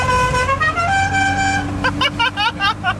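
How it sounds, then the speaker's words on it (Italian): A car horn on a tuned Suzuki Samurai blares in a long sustained honk, then gives several quick toots, loud and near, while a person talks over it. "puoi sentirlo il clacson?"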